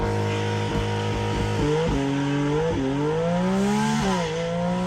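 Porsche GT4 RS flat-six engine revs steadily and loud, its pitch climbing through several stepped rises and dips as it accelerates and shifts, a strong close mechanical howl.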